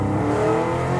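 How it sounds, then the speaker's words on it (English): A 1969 Chevrolet Camaro Pro-Street with a big front engine and aftermarket exhaust rumbles and revs loudly and close, a brief deep throaty burst. "awesome exhaust system."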